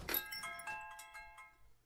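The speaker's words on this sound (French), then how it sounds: "la cloche suspendue à l'intérieur de la porte carillonne bruyamment" A small bell hanging inside a door chimes as the door is flung open, giving a bright jangling strike followed by ringing tones that fade quietly away.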